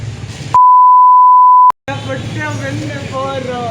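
A single steady censor beep tone lasts about a second, cutting over speech, with a person talking just before it and again right after.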